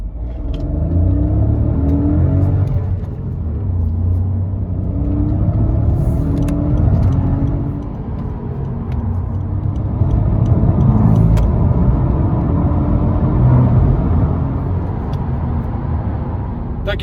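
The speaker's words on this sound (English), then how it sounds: "Let's see how it accelerates going onto the motorway from 0 up to 120 kilometers an hour." A 2019 Honda Civic SR with a 1-litre turbo VTEC engine accelerates onto a motorway, a steady low engine drone and road rumble rising and easing through gear changes, heard from inside the cabin.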